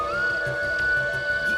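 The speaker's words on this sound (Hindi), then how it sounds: "ये तो बांसुरी की आवाज है।" A flute plays at night, a thin, sustained, steady tone held softly over quiet background hiss.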